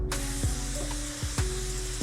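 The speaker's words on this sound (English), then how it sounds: "make a way to reach over to spray on the roof without hitting the side of the vehicle" Water sprays onto the roof of a truck in a steady hiss, with a few short bursts and knocks as the spray nozzle is moved across the vehicle.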